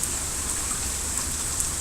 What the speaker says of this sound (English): Actually, this is the second round of rain